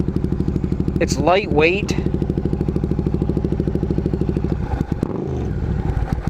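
A 1995 Suzuki Intruder VS800 motorcycle engine idling with a steady, loping pulse, close and loud, as someone talks over it and the rhythm shifts briefly near the end.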